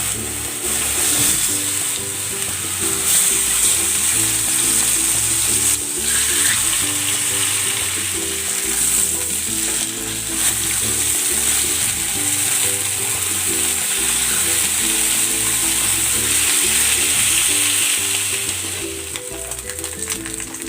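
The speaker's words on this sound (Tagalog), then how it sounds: "Ilalagay ako ng cooking oil. Ipan-fry ko muna itong pork." Pork frying in cooking oil makes a long, even sizzle that holds steady and fairly loud throughout, with a faint mechanical hum beneath and no one speaking.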